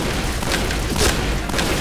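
Gunfire in the shooting video game Point Blank: several loud, dense booming shots in rapid succession, close and forceful, filling the whole short burst.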